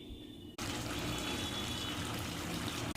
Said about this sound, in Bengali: আস্তে আস্তে করে জল দিতে হবে